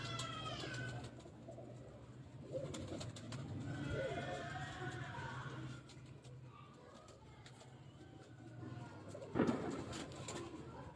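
Soft, low cooing of fancy pigeons kept by a hobbyist, repeated calls under a steady background hum, fairly faint and close.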